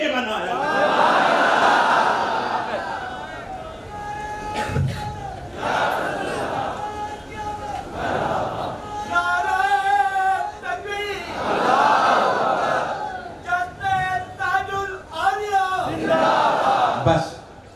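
A crowd at a religious speech roars slogans in loud surges, with several swelling collective shouts that rise and fall repeatedly, some chanted in rhythm.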